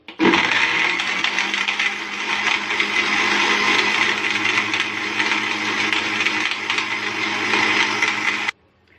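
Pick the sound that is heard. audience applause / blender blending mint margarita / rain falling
blender blending mint margarita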